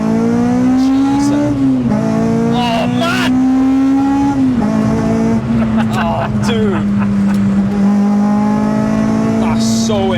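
A 282 bhp naturally aspirated Honda Civic EP3 with a K20 engine revs hard on a track, its loud close howl sweeping up and down in pitch, while excited voices exclaim over it.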